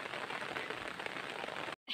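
Light rain and drizzle outdoors, a steady close hiss of fine drops that runs unbroken, then drops out briefly near the end.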